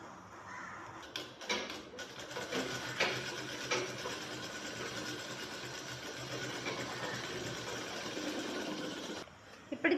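A sewing machine runs steadily, stitching the shoulder seam of a collared shirt at the neckline, a continuous whirring drone lasting most of the stretch before stopping near the end.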